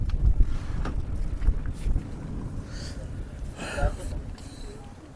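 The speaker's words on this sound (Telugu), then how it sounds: "మా కొరకు పడవ రెడీగా ఉంది." A boat travels across floodwater in Vijayawada, with a steady broadband rumble and heavy wind buffeting the microphone throughout, and people talking close by.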